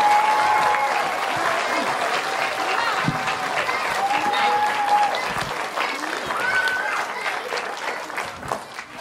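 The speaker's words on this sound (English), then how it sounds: "So please give her a round of applause." A crowd applauds a performer in a loud, sustained burst of clapping that carries through the whole span, with scattered voices and a cheer or two mixed in among the hands.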